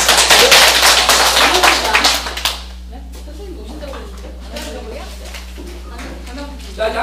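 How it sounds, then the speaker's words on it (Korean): A small group claps at the close of a Korean farm-produce direct-sales e-business class in Dangjin, a loud burst of clapping for about two seconds, followed by quieter talk and scattered taps over a steady hum. "박수 치면 마치겠습니다."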